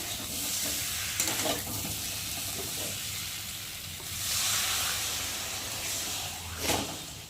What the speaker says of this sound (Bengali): দেখো আমি এখন জল ঢেলে দেবো